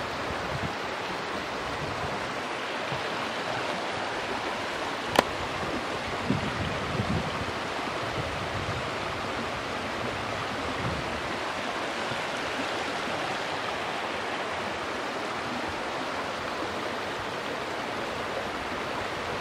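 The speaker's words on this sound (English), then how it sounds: "I'm going to give you a little shot of the river, the creek, because it's not really that big." Small creek flowing through a country setting: a steady, even babbling wash of water heard close and continuously for about twenty seconds, with one sharp click partway through and no voices.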